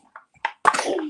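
A single person's sneeze, short and close: a soft intake of breath followed by a sharp, explosive burst that trails off within about a second.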